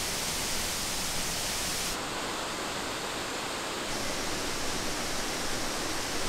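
Lower falls of a waterfall in Oregon roar loudly and steadily, a dense unbroken rush of falling water heard up close with no voices.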